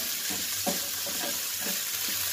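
Hotdog with cheese frying in a lightly oiled pan, a steady soft sizzle with a few brief stirring or scraping taps, close and fairly quiet, no talking.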